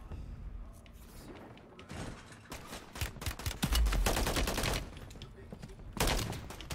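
Warzone video game gunfire: dense bursts of rapid shots and clustered cracks, some close and loud, others more distant, with heavy thuds mixed in, building to a sustained fusillade midway and flaring again near the end.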